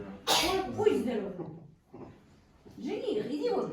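A single sharp sneeze bursts out loud and close, followed by speech from the people present.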